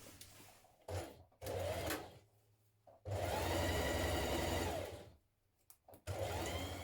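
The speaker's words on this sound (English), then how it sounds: "We are stitching the side seams on those as well." A sewing machine stitches the side seams of a camisole and its lining, with steady motor whirs in several runs of a few seconds, separated by short pauses, close by and without talking.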